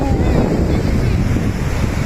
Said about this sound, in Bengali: পানিতে সাগর ঢেউ,